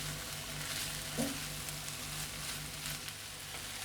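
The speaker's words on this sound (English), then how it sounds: "Into the pan go my lovely colourful sliced peppers. Give those a good stir around." Sliced colourful peppers sizzling in a hot frying pan for shakshuka, a steady hissing crackle that runs throughout with a brief scrape of stirring near the start, close and unbroken.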